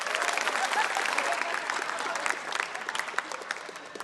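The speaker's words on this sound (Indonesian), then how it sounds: "Tepuk tangan buat Indonesia." A stand-up comedy audience applauds steadily, a dense wash of clapping that slowly thins out toward the end.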